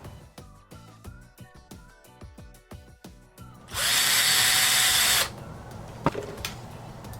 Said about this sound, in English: So I'm going to go ahead and set up my drill and then come back.